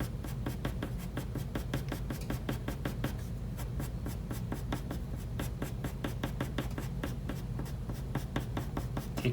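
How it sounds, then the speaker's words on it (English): Pencil shading strokes on paper while drawing an acorn: quick, even back-and-forth scratching repeated in a steady rhythm, close and soft, with no voice over it. "follow your line that you created and just draw your strokes away from it"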